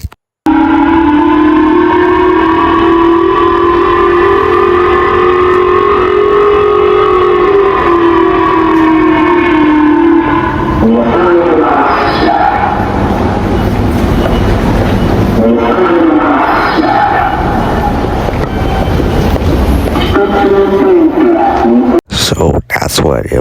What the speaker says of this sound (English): his EAS will be a siren and a megaphone